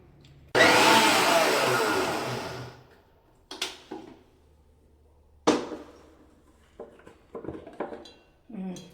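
A kitchen mixer grinder whirs loudly for about two seconds while grinding onion and tamarind for a South Indian tamarind curry, then stops, followed by scattered clinks and clatter of jar and utensils.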